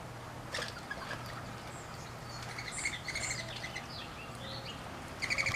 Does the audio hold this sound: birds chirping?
yes